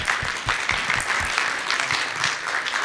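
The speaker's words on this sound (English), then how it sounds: "Give him a round of applause, please, everybody." Loud, sustained audience applause at an international foreign-language fair, many hands clapping together in a dense, even roar with a few nearer claps standing out.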